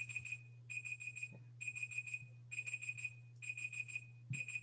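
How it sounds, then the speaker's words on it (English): An electronic timer alert beeps from an open microphone during an online conference session, sounding as rapid bursts of high, repeated tones in a steady on-off pattern, faint over a low constant hum with no talking. "I think someone's microphone is off with a timer alert"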